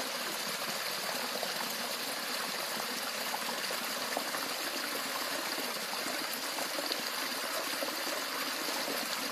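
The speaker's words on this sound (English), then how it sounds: "You can definitely see that the water has begun to slow and flow." Spring water trickles slowly along a roadside, a continuous soft gurgling flow without pauses.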